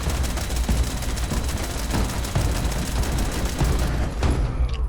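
Dense bursts of gunfire in the Fallout 76 game, rapid overlapping shots in a loud, continuous fusillade lasting several seconds.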